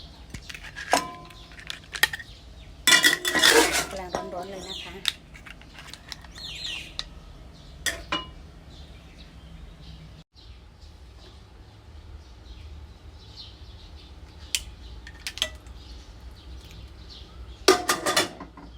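Stir-fried clams scooped out of a pan onto a plate, with scattered clinks and scrapes of a utensil against cookware, a few sharp bursts of clatter, and quieter gaps in between.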